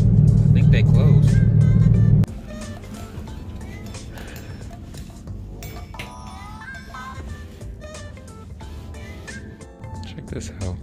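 A car driving along the road, a steady low engine and road rumble heard from inside, louder for the first two seconds and then quieter, under talk throughout.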